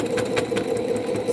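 A sewing machine stitches binding onto a quilt, running loudly with a steady rumbling drone and faint rhythmic clicks.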